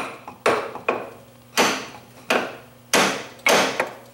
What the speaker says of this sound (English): as they come together I have to tap the drum in